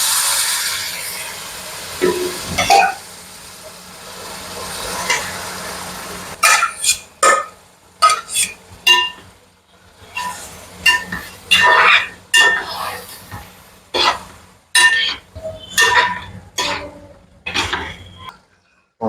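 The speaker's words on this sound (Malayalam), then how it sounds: "ഇനി നമ്മൾ ഇറച്ചിയില്ലേ നമ്മൾ വേവിച്ച് വെച്ച ഇറച്ചിയും കൂടി അങ്ങോട്ട് ഇടാൻ പോവാണ്" Cooked meat goes into masala in a pan for a Kerala-style dish: an opening steamy sizzle gives way to a series of loud, irregular scraping clanks of a spoon stirring against the metal pan, close by.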